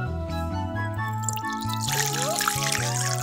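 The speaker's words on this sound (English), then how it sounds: "we're gonna pour 4 cups of water in this bowl we have right here" Water pours steadily into a bowl as a thin trickling stream for a few seconds, the first step of making edible slime, with background music underneath.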